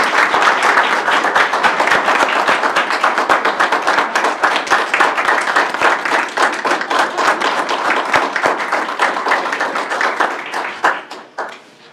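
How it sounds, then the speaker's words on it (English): Applause at a public education board meeting: a steady, loud round of many people clapping for about ten seconds before it fades out, with no talking over it. "why don't we have a round of applause for Mr. Phyllis and for public education."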